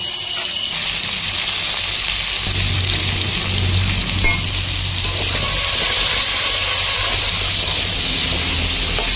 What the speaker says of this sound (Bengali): আলু আর পুঁইশাকের ডাঁটাগুলো আমি একসঙ্গে ভেজে নেব।